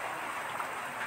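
Heavy rain pours down under a dark stormy sky, a steady close hiss of falling water with no voices.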